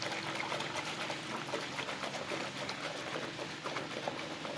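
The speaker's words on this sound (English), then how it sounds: "Shake the water, let the foam come out" Water sloshed and shaken by hand in a basin of detergent suds while washing clothes, a steady close splashing and trickling that runs throughout without pause.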